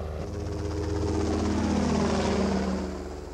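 A helicopter flies overhead, its throbbing rotor drone swelling slightly louder through the middle and then easing, steady and close, with no voices.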